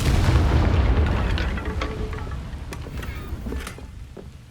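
A Confringo fire spell explodes in Hogwarts Legacy, giving a deep booming blast that rumbles and slowly fades over a few seconds, with scattered crackles and small impacts in the tail.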